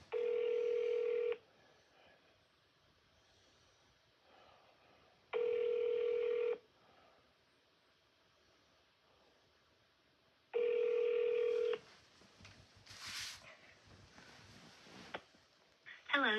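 Three loud, evenly spaced telephone keypad tones sound as an extension is entered on a phone menu, each about a second long with pauses between, followed by quieter phone-line noise and faint speech.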